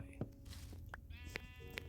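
Sheep in the video game Minecraft bleat in several short, wavering calls spread across the moment, while a person talks over them and game background sounds continue underneath.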